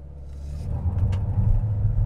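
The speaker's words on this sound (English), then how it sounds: "We'll just do a little hill start here to see for ourselves." An MG HS SUV pulls away from a hill start, its engine rising into a steady loud rumble as it accelerates, close and without talk.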